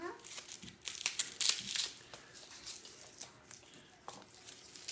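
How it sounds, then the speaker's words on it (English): Garlic cloves being peeled by hand in a home kitchen, with papery crinkling and tearing of the skins in short, close bursts, louder in the first half and then lighter, under quiet background. "You want to peel some garlic with me?"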